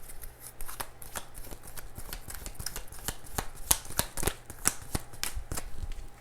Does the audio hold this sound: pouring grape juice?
no